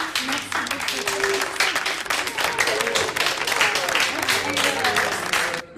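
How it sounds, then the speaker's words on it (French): Parents applaud in a dense, sustained round of clapping that fills the whole stretch, with voices speaking over the applause. "Les parents peuvent t'applaudir."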